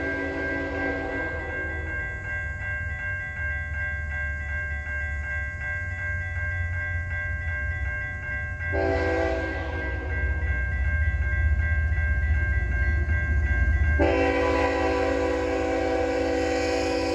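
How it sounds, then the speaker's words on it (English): A USA 250 commemorative locomotive-hauled train rolls past nearby with a loud, sustained rumble and rail noise, while a steady multi-tone horn chord sounds throughout and swells at moments. "This is one gorgeous train."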